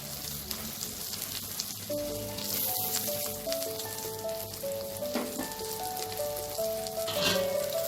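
An omelette fries in a pan for a Bengali omelette curry, giving a constant, fairly loud sizzle with fine crackling throughout, and faint tonal music plays in the background.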